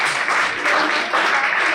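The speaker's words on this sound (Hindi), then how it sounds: "अरे वाह, इनके लिए एक बार ताली बजाओ।" Audience applause at a student dialogue session at Devi Ahilya Vishwavidyalaya, Indore: a dense, steady burst of many hands clapping, fairly loud and filling the whole moment, with a brief dip partway through.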